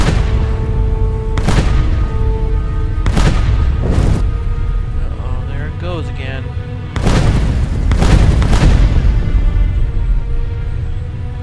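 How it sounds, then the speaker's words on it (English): Deep booms like fireworks from the video game Neverwinter Nights 2 go off in an irregular burst of loud, separate blasts over game sound, while someone talks across them. "It sounds like fireworks."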